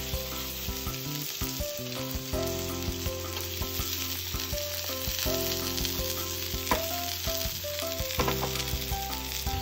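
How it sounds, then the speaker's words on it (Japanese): Ostrich meat sears in a preheated, oiled frying pan, giving a steady, close sizzle that runs throughout with scattered light clinks and taps of handling. "温めたフライパンに油を引きます。 表面を焼いていきます。"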